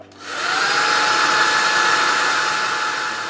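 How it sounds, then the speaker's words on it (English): A hair dryer switches on and blows with a steady, loud whooshing whine, held continuously for several seconds close to the listener. "here I'm just going to use this hair dryer for a minute and we'll dry it up."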